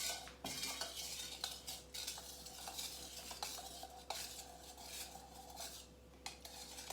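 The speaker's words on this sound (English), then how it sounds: "I'll just kind of stir that till it's looking kind of cloudy" A polymer mixture being stirred in a container for a lab, with continuous scraping and clinking of a utensil against the sides, close and busy, with no voices.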